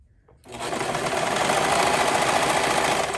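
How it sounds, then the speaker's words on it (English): A Brother 1034D serger sews a thread chain, starting after a short pause into a fast, steady mechanical whirr that runs loud and close for about three seconds. "put your foot on the pedal to sew for a few seconds just to make sure it's chaining properly"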